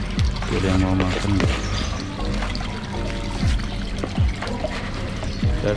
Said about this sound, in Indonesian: Saya kasih pancuran tuh biar ada oksigen yang masuk ya.